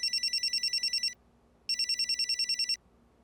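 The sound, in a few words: mobile phone ringtone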